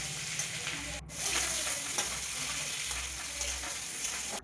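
Chopped onion and green chili frying in hot oil with five-spice seeds, a continuous close sizzling hiss with occasional stirring scrapes and no voices.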